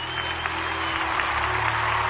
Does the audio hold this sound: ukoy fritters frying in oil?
no